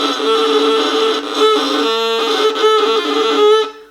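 A bowed string tone, slow and heavily pressed, sounds scratchy and gritty, sustained at steady loudness with a slight buzz and a few changes in pressure.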